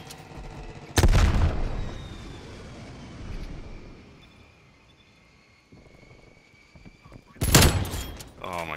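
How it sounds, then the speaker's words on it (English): In Call of Duty Black Ops Cold War, a strafe run hits with two heavy explosive bursts of gunfire and blasts, one early and one near the end, with roaring rumble and fading noise between. "I got a strafe run over here"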